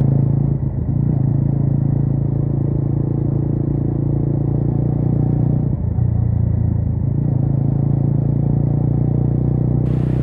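Motorcycle ridden through busy office-hour city traffic on BT Road near Sodepur, Kolkata, a loud steady engine rumble and road noise heard from the rider's position throughout, with a brief dip midway and no speech.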